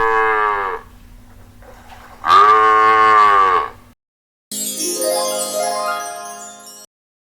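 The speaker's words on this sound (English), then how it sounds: "It makes moo sound." Cow mooing on a farm, two long, loud, resonant moos separated by a short pause, followed by a burst of higher-pitched animal calling.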